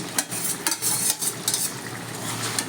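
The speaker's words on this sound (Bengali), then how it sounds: "এবার আমি ভাজা মাছগুলো দিয়ে দিচ্ছি" Fried rohu fish pieces go into a simmering gravy with bitter gourd, making a quick series of soft splashes and spoon scrapes against the pan, close by and fairly quiet.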